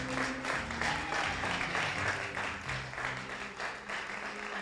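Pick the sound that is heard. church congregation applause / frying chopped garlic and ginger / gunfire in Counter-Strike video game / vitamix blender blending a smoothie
church congregation applause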